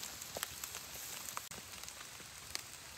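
Light rain falls in a forest in Ubon Ratchathani, Thailand, as a faint, scattered patter of individual drops and soft ticks over a quiet, hissy background, with no talking.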